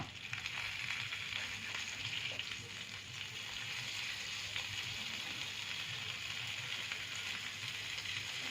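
Spice paste with chili, salt and coriander powder frying in a pan for rui fish korma, a continuous dense sizzle, close and even, with faint stirring and no talk.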